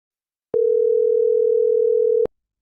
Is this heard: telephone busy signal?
yes